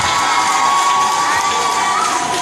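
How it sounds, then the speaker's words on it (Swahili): A church congregation cheers and shouts in a loud, continuous crowd roar that holds steady for a couple of seconds. "Si upige tu makofi kwa Yesu."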